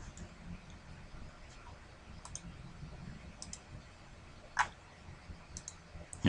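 A computer mouse clicking on menu items, a few sparse, faint isolated clicks spaced irregularly over quiet room hiss, with one slightly louder click in the middle.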